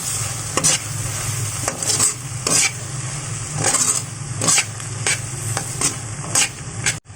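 Sisig with chili sizzles in a pan while a utensil stirs it, rhythmic scraping strokes recurring over a constant close frying hiss, no voices.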